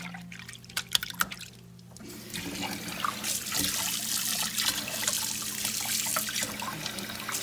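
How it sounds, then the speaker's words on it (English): Tap water runs steadily over a silicone baby doll being rinsed at a sink, a continuous splashing hiss with some knocks and handling sounds near the start. "then we're going to rinse"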